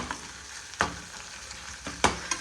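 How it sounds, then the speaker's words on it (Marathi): Onion and tomato sauté in a pan for a vegetable dish, a low steady sizzle broken by two sharp clanks of a spatula stirring and a few lighter scrapes, close up and without speech. "कांदा टोमॅटो मस्त परतायला टाकलाय"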